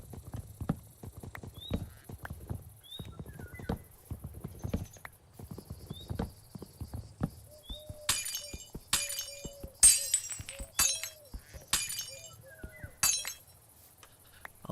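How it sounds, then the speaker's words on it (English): Glass breaking in Minecraft with the MC Eternal 2 modpack: several sharp, bright shattering crashes in a row, preceded by rhythmic clopping steps and small clinks, with no talk. "It's the sound of glass breaking."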